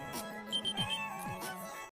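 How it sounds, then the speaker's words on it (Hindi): Alarm clock going off in the morning, a repeating series of short electronic beeps mixed with other brief sounds, moderately loud and close, cutting off abruptly at the end. "ये अलार्म क्यों बज रहा है?"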